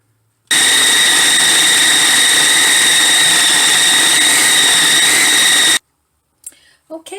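A stand mixer kneads a firm poultry-style seitan dough, its motor giving a loud, steady whine with high pitched harmonics for about five seconds before stopping abruptly, followed by faint handling noises.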